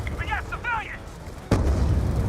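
A single heavy gunshot from a futuristic gun in Call of Duty: Black Ops II booms out loudly midway, after a stretch of speech and game chatter, and its rumble trails on to the end.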